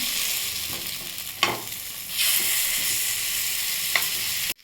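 Tandoori chicken sizzles in a pan, with a sharp scrape as the pieces are flipped and a louder burst of frying afterward, close and continuous.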